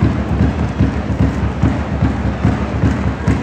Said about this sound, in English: rain's coming from a slight distance, but yeah, if you guys can see it